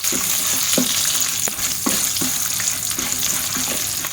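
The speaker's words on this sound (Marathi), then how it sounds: "आता आपण हे छान असं परतवून घ्यायचं आहे" Red Byadgi chillies sautéed in a pan, with a steady close sizzle of frying oil and a series of stirring scrapes and taps at irregular intervals.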